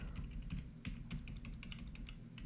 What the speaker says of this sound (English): Habitually typing spaces between words, and of course we don't want them here.